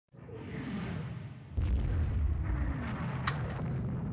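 Sixteen-inch battlecruiser guns firing in the naval game Rule the Waves 2, a deep rolling boom that swells and keeps rumbling with a heavy low roar.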